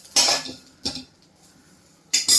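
A spoon scrapes and knocks against a pan while grated coconut is stirred and dry-roasted, three separate short scraping bursts with quiet gaps between them, close and fairly loud.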